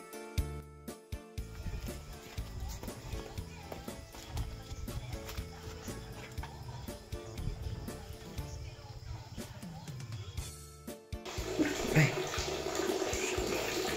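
Water poured for a bath, with boiled leaves in a rural home: a steady running and splashing wash under background noise, swelling into a louder rush near the end.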